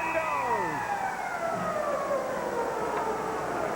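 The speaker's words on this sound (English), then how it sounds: "And the siren goes." The arena siren sounds at the end of a period in a 1996 NHL playoff game between the New York Rangers and Montreal Canadiens, a loud wail that slides downward and fades out over steady crowd noise.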